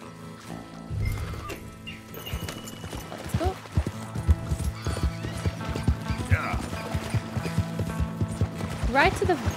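Horse hooves clip-clop in a rapid galloping rhythm in Red Dead Redemption 2, with a whinny near the end, heard under a person talking throughout.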